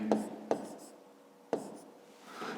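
A pen writes numbers and letters while solving a school geometry exercise, giving quiet scratching strokes with three sharp taps as it touches the page, close and faint, with soft speech between.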